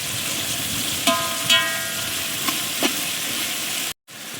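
Onions frying in a pan with cinnamon, cloves and cardamom for egg dum biryani, a steady close sizzle broken by a few stirring scrapes and clinks, with no talk.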